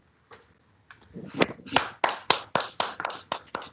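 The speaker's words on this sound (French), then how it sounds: "merci beaucoup pour vos applaudissements" Scattered hand clapping from a lecture audience thanking a speaker, starting as a few isolated claps and building into a steady run of sharp, fairly close claps.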